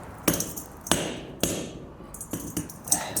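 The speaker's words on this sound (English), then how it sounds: "you can just hammer off the coupling" Hammer blows knock a CV joint coupling off a Subaru during a rear-wheel-drive swap: about six sharp metallic strikes at uneven intervals, close and loud, with ringing decay between hits.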